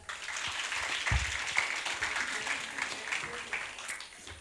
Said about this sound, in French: accueillons Las, le parolier, sous vos acclamations